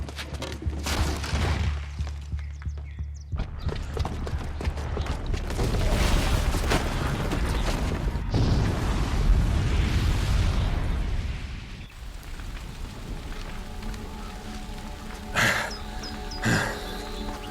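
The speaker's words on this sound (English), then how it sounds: "the booby trap on the bomb downstairs is gonna get set off" A booby-trapped bomb goes off during a Horizon Zero Dawn cutscene in Meridian: a long, heavy rumbling blast swells through the middle, then settles into lower crackling and scattered debris with a couple of sharp hits near the end.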